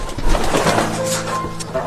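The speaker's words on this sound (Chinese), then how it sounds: "小鸽子在这里" Pigeons cooing in an animal enclosure with peacocks and pheasants, a soft, steady low murmur of coos close by, with a person talking over them.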